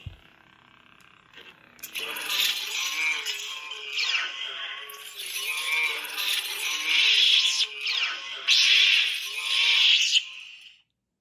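A Wattos Dark Lord lightsaber with Goth Master chassis hums and swells after a sound font change, a buzzing, warbling tone rising and falling in bursts, close and fairly faint, ending abruptly.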